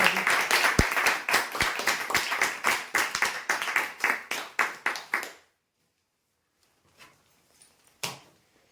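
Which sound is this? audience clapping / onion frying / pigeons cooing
audience clapping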